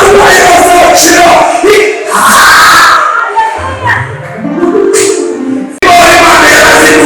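A church congregation claps and cheers: a loud, dense crowd roar with shouting voices that swells and dips, then surges back abruptly near the end, with speech mixed in.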